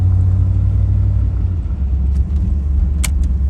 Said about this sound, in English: I was waiting for this car just to pull on out.